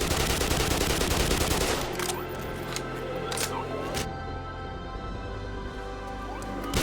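Assault rifle gunfire in a video game rattles in a dense, loud burst for about two seconds, then gives way to scattered single shots and sharp cracks over a low background hum.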